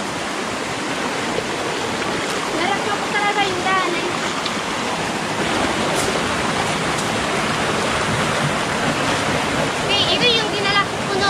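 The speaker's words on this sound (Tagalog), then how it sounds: "Diyan bumabagsak yung tubig." A waterfall roars as a steady, broad rush of falling water, loud and close, with people talking over it throughout.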